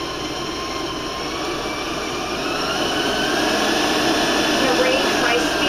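A steady, loud electric whir of a mixer beating stroopwafel batter continuously, with a faint rising pitch as it churns, no voices over it.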